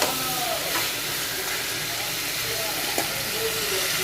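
Vegetables stir-fry in spiced masala with a steady, broad sizzling hiss that stays even throughout, under a few faint clicks.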